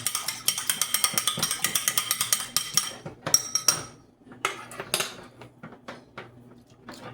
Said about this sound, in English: so I am going to crack an egg. And I'm gonna brush the tops with it.